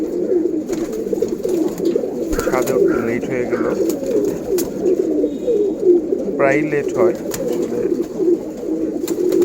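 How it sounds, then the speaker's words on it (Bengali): Pigeons on a rooftop, crowding in to drink water at midday, coo steadily and close by while someone talks over them. "পানির জন্য একদম পাগল হয়ে গেছে কবুতরগুলো"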